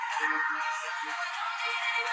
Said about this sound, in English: So this is my normal ringtone.